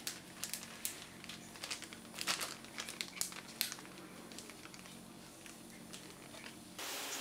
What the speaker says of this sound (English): You can then take all three of those and place them inside of the other